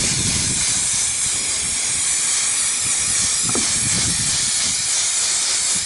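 Mastervax anti-gravel coating is sprayed in a thick layer onto car wheel arches, a loud continuous pressurized hiss that runs unbroken throughout at close range.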